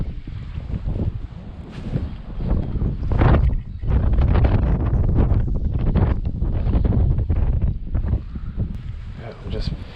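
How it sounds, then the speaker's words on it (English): Strong wind buffets the microphone out on open water during kayak bass fishing in heavy winds, a loud continuous roar with gusty surges, under someone talking. "And it's windy."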